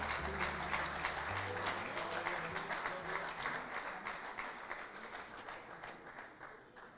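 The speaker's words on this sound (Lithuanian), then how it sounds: "Pasitikite aplodismentais." A concert audience applauds loudly and steadily after a choir performance, dense clapping with lingering musical tones early on, slowly tapering toward the end.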